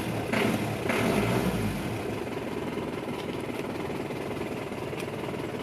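A diesel engine in a 1989 Toyota Land Cruiser BJ71 idles roughly, giving a low, steady, somewhat uneven rumble. It sits close and at moderate level, with a few brief higher sounds early on and no talk.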